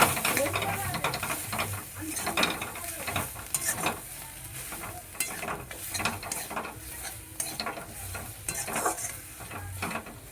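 Cabbage leaf paste with salt and turmeric stirred in a pan, a steady scraping and clattering of the spoon with a soft sizzle underneath, continuous and close throughout with no talking.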